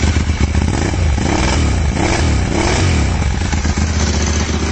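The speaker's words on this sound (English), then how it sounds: "Let's have a listen to this exhaust then," A Ducati 1198S motorcycle with an aftermarket exhaust revs up while stationary, its loud, rough engine note rising and falling in several blips close by.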